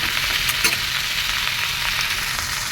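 Pumpkin greens with salt, turmeric and slit green chillies fry in a pan with a loud, continuous crackling sizzle, and a couple of quick stirring scrapes stand out near the start.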